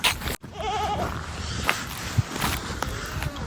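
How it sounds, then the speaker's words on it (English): Goats on a farm let out a wavering bleat, followed by scattered shuffling and rustling nearby in an outdoor pen. "We'll go over and show you the goats and the steer."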